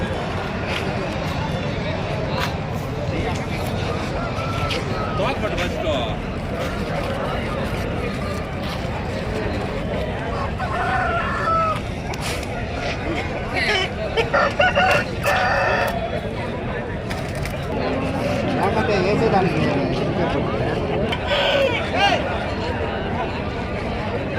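Roosters at a busy rural chicken market crow repeatedly through steady crowd chatter and bustle, with clucking fowl scattered among the voices.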